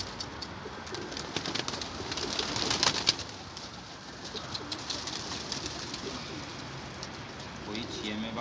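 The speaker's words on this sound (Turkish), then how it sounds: "Cidden güzel bir kuş." A bird calls close by with soft cooing notes over a steady outdoor hiss, while a person speaks quietly in the background.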